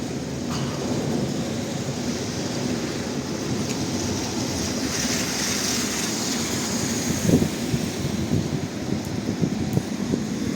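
An old open-roofed tram on Doroshenka Street in Lviv rumbles past with a steady rolling roar and rattle, mixed with wind noise and street ambience, no talk over it.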